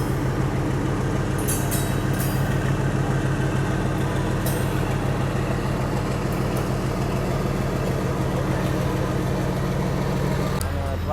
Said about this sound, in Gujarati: WDG 4G જઈ રહ્યું છે માલગાડી લઈને. તમે એનો ખાલી સાઉન્ડ ફીલ કરો. ફૂલ પાવરફુલ એન્જિન